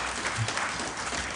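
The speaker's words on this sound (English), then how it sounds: "let's give her a round of applause." Brief round of applause from the audience at a human rights summit, a steady wash of many hands clapping at moderate level.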